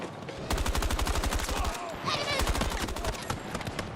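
Rapid gunfire in Battlefield 2042, with loud, regularly spaced sharp cracks in quick bursts, a short pause in the middle, and voices mixed in.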